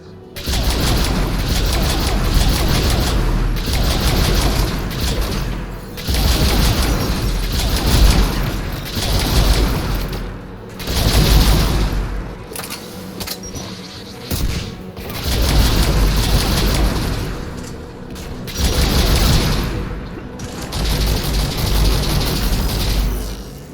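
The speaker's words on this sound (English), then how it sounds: "AA guns ahead of us." Anti-aircraft guns in Mass Effect 3 pound away in repeated heavy bursts of booming fire, loud and rhythmic, separated by short lulls.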